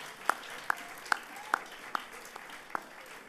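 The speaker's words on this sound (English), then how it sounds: "please a round of applause" A small group applauds staff at a volunteering awards ceremony, with seven sharp, evenly spaced claps at a steady rhythm, fairly close and standing alone.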